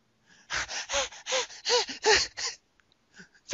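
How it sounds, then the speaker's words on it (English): A person breathes heavily, about eight rapid, loud gasping breaths in quick succession up close, then a brief pause with a couple of softer breaths. "Breathing heavy!"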